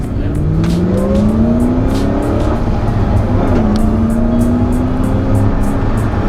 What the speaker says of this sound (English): Hear that supercharger whine. Really knocks you back in your seat.